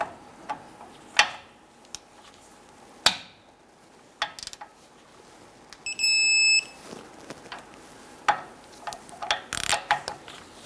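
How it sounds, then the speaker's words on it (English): A 21 mm socket on a torque wrench tightens the caliper bracket bolts to 130 foot-pounds during a front wheel hub job on a 2002-2008 Dodge Ram 1500. Scattered sharp clicks and ratcheting ring out close by, with a brief steady electronic beep midway and no talk. "Torque down your caliper bracket bolts to 130 foot-pounds."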